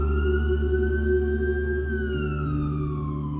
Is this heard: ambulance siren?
yes